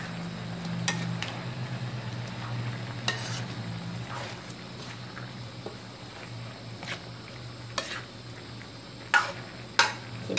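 Bamboo shoot chicken curry fries in a wok, giving a faint steady sizzle under a low hum, with occasional sharp clinks and scrapes from stirring.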